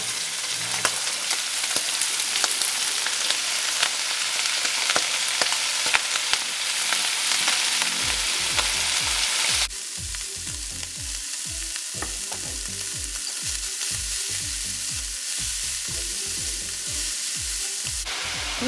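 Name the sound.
broccoli rabe frying with Italian sausage in a pan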